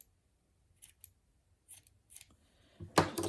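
Scissors snip quilt fabric during hand quilting: a few quiet, separate cuts spaced apart in a hushed room, then a louder rustle of cloth at the end.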